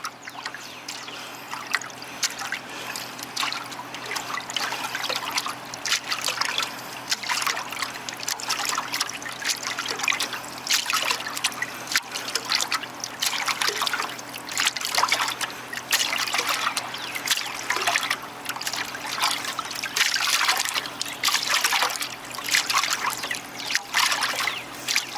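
Engine oil sloshing inside a Toyota Cressida 7M oil pan as it is jostled toward the front, a continuous wet trickling and splashing that surges and eases steadily, fairly close, with no talking.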